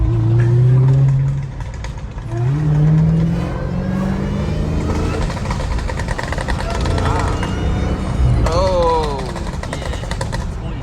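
Dodge Hellcat exhaust revving hard with repeated crackling pops, loud and close, engine swells rising and falling several times alongside another car, with voices talking over it.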